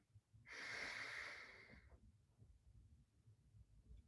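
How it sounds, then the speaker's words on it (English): A single deep breath drawn in during a qigong and taijiquan exercise session, a close, steady airy inhale lasting about a second and a half, then quiet room hush. "Breathing in."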